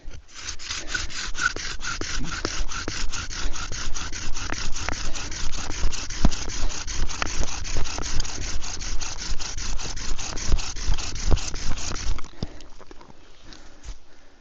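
Steady rhythmic scraping and grinding of a bow drill with a new bowstring spinning against wood, fast back-and-forth strokes, loud and close, stopping near the end.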